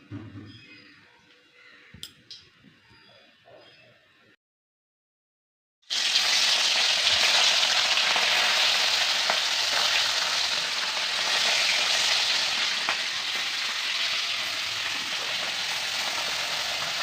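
Small moya fish fry in hot oil with a loud, steady sizzle that starts abruptly after a quiet stretch of faint kitchen clicks and continues to the end.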